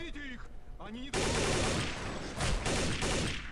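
Gunfire in Counter-Strike: Condition Zero, a sudden burst of rapid automatic shots that keeps going as a dense, loud fusillade after a short stretch of a voice talking.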